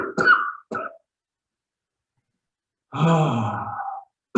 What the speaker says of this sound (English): let the breath out and cough at the end of each exhale